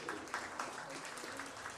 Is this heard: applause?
yes